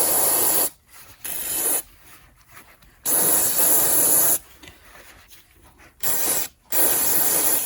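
Mass airflow sensor cleaner sprays in loud hissing bursts onto the sensor of a Ford E-350 Econoline van, several long blasts separated by short pauses, close up with no talking.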